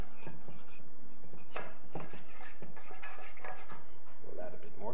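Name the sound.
stirring orange juice and cocoa powder sauce in bowl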